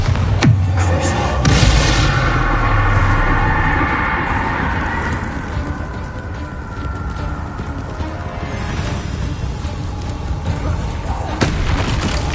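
A Bombarda spell bursts in Hogwarts Legacy with a loud booming blast that rumbles and fades, followed by scattered softer impacts and a sharp crack near the end.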